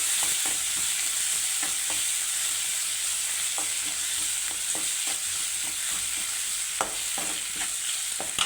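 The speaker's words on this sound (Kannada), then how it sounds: "ಹಾಫ್ ಟೊಮೊಟೊ ಹಾಕ್ಕೊಂಡು ಈ ಥರ ಫ್ರೈ ಮಾಡ್ಕೊಳ್ಳಿ ಒಂದು ಫೈವ್ ಮಿನಿಟ್ಸ್ ಫ್ರೈ ಮಾಡ್ಕೊಳ್ಳಿ" Chopped half tomato frying in a pan, with a steady close sizzle throughout and scattered sharp clicks of a spoon scraping and stirring against the metal.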